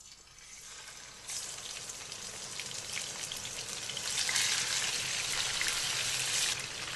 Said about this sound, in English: so I'm going to start frying the fish.